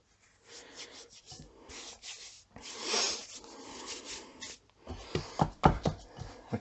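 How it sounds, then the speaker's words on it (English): Fingers scraped to clear flour while kneading pizza dough, close dry rubbing and scratching strokes in short bursts, then a run of sharper knocks and pats toward the end. "Just gonna scrape off the flour on my fingers,"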